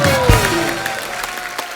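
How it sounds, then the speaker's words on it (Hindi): Brief studio audience applause greets a singer on a comedy talk show, a short burst of clapping with a sustained musical tone underneath. "जोरदार तालियां, स्वागत"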